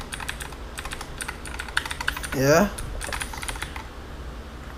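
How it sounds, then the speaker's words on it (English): A cheap Gigaware K28 mechanical keyboard is typed on in quick bursts of sharp clicks, with a short spoken word breaking in partway through. "there's a clicking sound, if you can listen to it, like an old digital typewriter, electronic typewriter"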